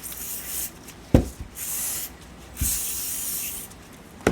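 WD-40 solvent sprayed from an aerosol can in a workshop while cleaning cheap 1-2-3 blocks, giving close, hissing bursts of spray separated by brief clunks as the can is handled.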